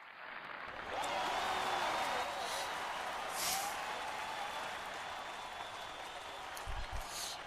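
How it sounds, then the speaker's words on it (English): Crowd applause welcoming the hostess at the VWBPE 2016 closing ceremonies, moderate and steady over a hissy background, fading gradually, with a faint tonal hum running underneath. "give a warm welcome and a huge round of applause to Pookie Amsterdam"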